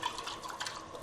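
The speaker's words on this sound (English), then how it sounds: "I'm just getting a little bit of water in these cans" Water from a tap trickles into cooking cans to rinse out the last bits, a soft steady splashing and dripping close by, brief and alone.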